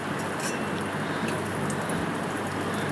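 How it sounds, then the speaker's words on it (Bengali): Chopped onion and potato sizzle steadily in a hot pan while dal khichuri is being cooked, a dense, even crackling hiss that stays loud and unbroken throughout, with no talking. "একটু ভেজে নেব পেঁয়াজটা নরম হয়ে আসা পর্যন্ত তারপর আলু কুচি করে রাখা দিয়ে দিলাম"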